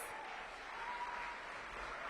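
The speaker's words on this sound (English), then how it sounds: "Give Caroline a big round of applause." Audience applause at St. Patrick's Episcopal Day School for a student named Caroline, a steady, fairly faint wash of many hands clapping that holds for about two seconds with no voices on top.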